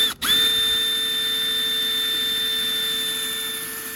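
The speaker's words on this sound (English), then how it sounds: "what we're going to do, drill through the frame" A power drill spins up after a brief pause and whines at a steady high pitch, close and loud, slowly easing off, as it drills an 1/8 inch hole through a vertical metal frame bar of a GMC motorhome.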